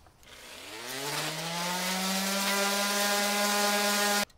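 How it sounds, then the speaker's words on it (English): A steady power sander works the wood of a handmade cigar box guitar, a rising whine that climbs and then holds a strong constant pitch for about four seconds before cutting off abruptly. "let's sand it smooth and on to the next step."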